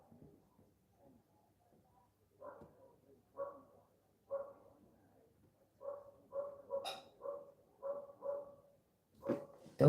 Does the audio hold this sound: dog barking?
yes